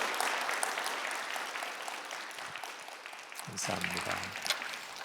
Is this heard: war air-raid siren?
no